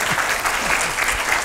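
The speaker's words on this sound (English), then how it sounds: "A little applause for it." Audience applause at a show, a steady wash of clapping from a crowd lasting the whole short stretch with no voices over it.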